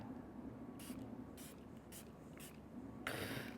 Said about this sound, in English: I'm going to spray this on my face